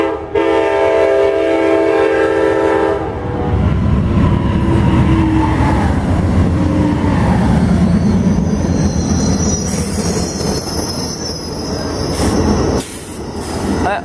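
An Amtrak Empire Builder passenger train passes close at Columbus, Wisconsin, opening with a loud sustained horn blast, then a heavy roar of rumbling wheels and squealing rails as the cars rush by.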